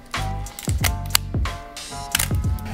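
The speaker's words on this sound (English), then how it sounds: "few things compare to this buttery smooth advance lever and shutter." A Nikon F3 film camera is worked close up, its advance lever ratcheting and shutter snapping in repeated quick mechanical clicks and whirs over a faint background hum.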